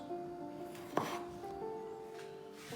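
A knife slices through small homegrown tomatoes on a board, one sharp cut standing out against low steady background hum in a quiet kitchen.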